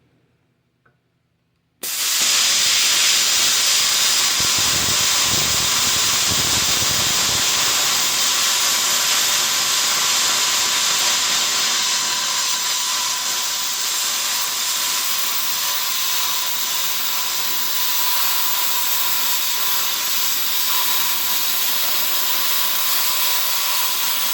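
A small 30-amp plasma cutter running on regular compressed air at about 100 psi kicks in suddenly after a quiet start, then sustains a loud, steady roaring hiss that continues unbroken to the end with no talking.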